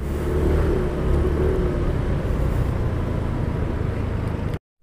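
Dense road traffic noise with motorcycle engines on a congested street in San Francisco, Mandaluyong, a steady low rumble of idling and creeping vehicles that runs continuously and then cuts off abruptly near the end.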